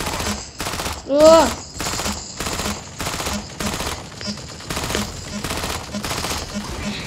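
Machine gun fire in a video game rattles in steady, evenly spaced bursts throughout, loud and close, with a brief voice sound near the start.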